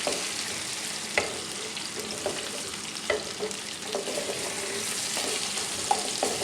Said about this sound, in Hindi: अब ये इसमें मैं आलू डालूँगी। अब इनको थोड़ा सा फ्राई करके 5 मिनट।